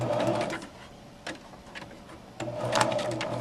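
A sewing machine stitches fabric while a sewer practises pivoting, running in two short bursts of rapid, close mechanical whirring separated by a quiet pause with a few faint clicks.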